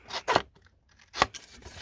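Scissors snip through a card base in two crisp, close cuts separated by a short pause, with light paper rustle and no speech.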